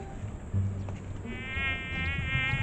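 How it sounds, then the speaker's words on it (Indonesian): Several flies buzz close by in an outdoor village setting, a thin wavering whine over a low background rumble with a few soft thumps. "Ih, banyak lalat."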